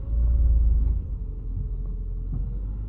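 A cold Citroen C3 1.4 VTi petrol engine idles with a steady, close, low rumble that eases slightly after the first second and then holds even.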